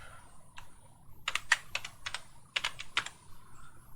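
Quick bursts of keystrokes on a computer keyboard, close and crisp clicks in short irregular clusters with small gaps between, no talking over them.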